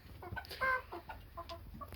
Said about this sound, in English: Just feeding the birds.